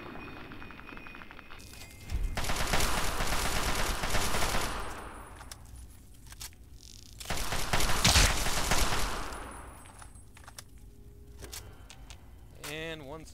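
Chinese assault rifle fire in the video game Fallout 3, two sustained automatic bursts, loud and close, the first around two seconds long and the second a little longer, with quieter in-game ambience between them.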